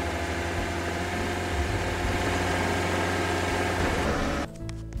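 A steady truck engine idles at a low, continuous rumble in the video game Lumber Tycoon 2, loud and close, before the sound briefly drops and changes near the end.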